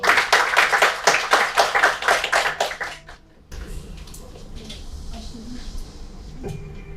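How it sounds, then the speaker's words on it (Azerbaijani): Audience applause after a poetry recital, a burst of rhythmic clapping for about three seconds that quickly fades, followed by a quiet room with faint rustling and small knocks. "Təbrik edir. Alqışlayalım."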